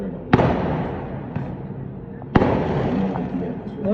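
Chinese New Year fireworks go off nearby, with two sharp loud bangs and a fainter pop between them. Each blast leaves a crackling, rumbling tail, and voices can be heard in the background.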